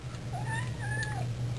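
A cat meows a few times in a rising, drawn-out call, close and clear over a steady low hum in the room.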